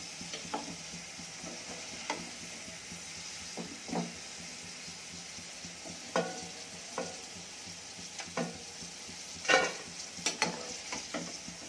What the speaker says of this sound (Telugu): ఇట్లా పైనకి కిందకి తిప్పుతూ పకోడాలు వేయించుకోవాలి